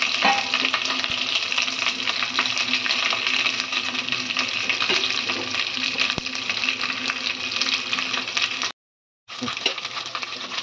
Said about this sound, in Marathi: वाटण टाकलं चांगलं परतून घ्यायचं. वाटण चांगलं परतलं पाहिजे.